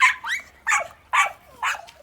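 Four sharp, high-pitched dog barks or yips at an even pace, close by, with quiet gaps between them.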